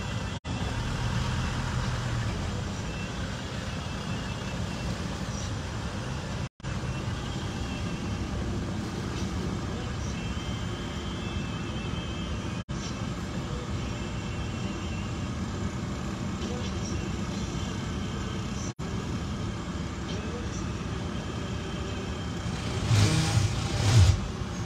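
City street traffic on busy roads lined with crowded sidewalks, a continuous rumbling wash of passing cars and heavier vehicles with engines revving, steady over the whole stretch with a louder burst near the end.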